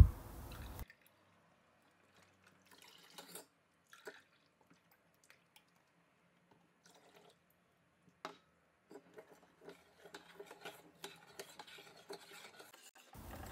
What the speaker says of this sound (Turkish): Evet, homojen olana kadar karıştıralım